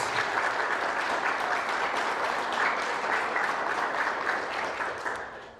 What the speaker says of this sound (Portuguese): Você pode aplaudir em nome de Jesus a palavra de Deus?